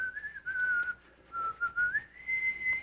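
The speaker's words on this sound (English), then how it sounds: "Whistle." A person whistles a short, wandering tune alone, the clear piping notes rising and falling in several breathy phrases with small gaps between them.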